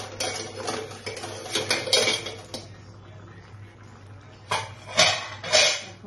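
Metal lid lifted off a pot of chana dal on the stove, producing several light clanks and scraping clatters in two clusters separated by a short quiet gap.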